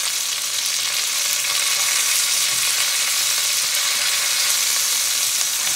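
Chicken thighs sizzle loudly and steadily in a hot pan while being flipped, a dense, even hiss of frying fat close up, with no talking.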